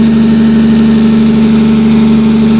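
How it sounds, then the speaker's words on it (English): A swapped 2JZ-GE engine idles in a 1987 Toyota Supra, freshly revived after sitting unrun and running with a slightly high idle. The hum is steady, loud and close, with an even rhythm and no voices. "It's running pretty smooth. The idle's a little high."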